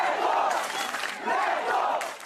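A large crowd of Chapecoense football fans shouts and chants together, loud and sustained, greeting an arriving ambulance outside a stadium gate in Chapecó.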